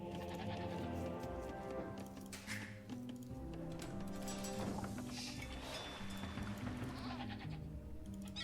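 Goats bleat repeatedly in the video game The Hautevilles 2 over a busy background of game music and ambient noise, the calls overlapping and fairly close.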